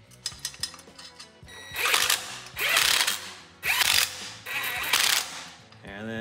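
A hand ratchet cranks off the castle nut from the suspension of a 1979-83 Toyota pickup truck, sounding as several bursts of rapid clicking separated by short pauses.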